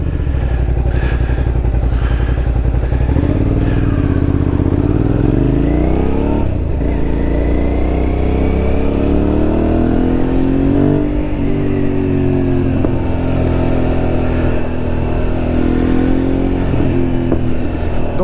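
A Suzuki SV650S motorcycle engine revs on a test ride, a loud steady V-twin drone rising and falling through gear changes with wind rush throughout.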